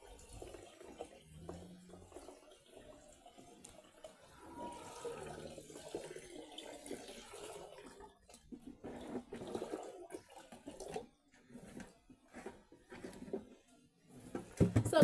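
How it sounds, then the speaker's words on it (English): Water poured from a jerrycan into a container at a rural Kenyan home, a steady rushing, gurgling pour that runs close and fairly loud for most of the time with no talking. "I'm pouring water in here"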